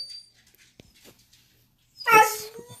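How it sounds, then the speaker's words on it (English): A single short dog bark-whine bursts out after a stretch of near silence with faint scattered noises. "there's my dog barking"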